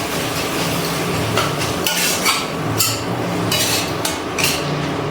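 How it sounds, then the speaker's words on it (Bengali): Tomato masala sautéing in a pan for a chayote squash and shrimp curry, with steady sizzling under repeated scraping and clattering strokes of a spoon against the pan. "টমেটোর কাঁচা গন্ধ না যাওয়া পর্যন্ত খুব ভালো করে কষিয়ে নিয়েছি।"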